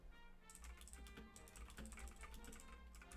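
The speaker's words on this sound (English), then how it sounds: "Get to hear my super clicky clacky keyboard." Rapid clicky computer keyboard typing, a steady run of sharp key strikes close to the mic over a low background hum, with no voices.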